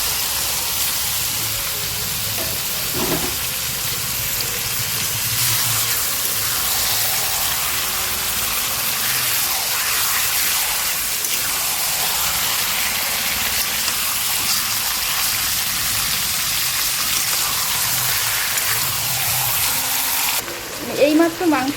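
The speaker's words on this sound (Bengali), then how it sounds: "তো এখন আমি কড়াইতে চিকেনটা দিয়ে দিচ্ছি।" Chicken fries in a kadai with a loud, continuous hiss and sputter like gushing water. The sizzle stays steady throughout and then drops away just before the end, where a few knocks are heard.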